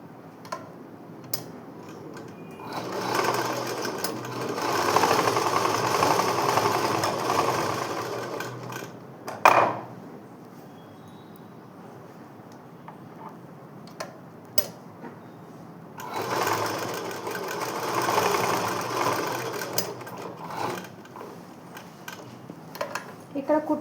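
A sewing machine stitches a school skirt in two long bursts of steady whirring with ticks and handling clicks in the quieter gap between them. It sounds close and moderately loud.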